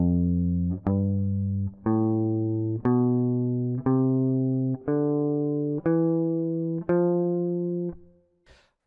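Guitar picking the lower octave of an F Lydian scale, eight clear single notes about a second apart, each sustained and stepping upward, ending with a soft scrape.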